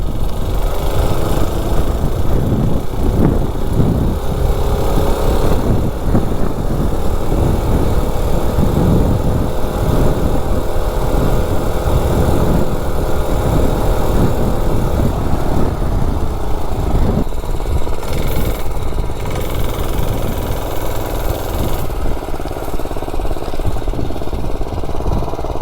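A gas mini bike engine running on diesel fuel during an eighth-mile run, a loud continuous rough mechanical drone with rattling, close to the mic and steady throughout.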